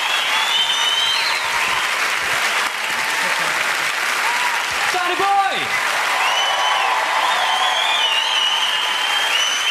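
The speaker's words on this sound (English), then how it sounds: "Please keep your applause going" A live stand-up comedy audience at the Commonwealth in Glasgow claps in loud, sustained applause with cheers and whistles throughout, while a voice calls out over the crowd.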